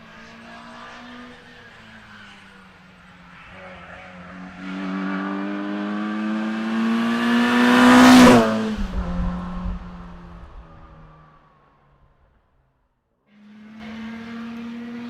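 A vintage racing car engine, including a Lotus Climax, roars closer, peaks loudly as it passes, then fades into the distance before another car approaches.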